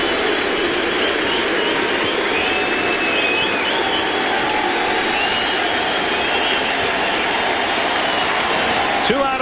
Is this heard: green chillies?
no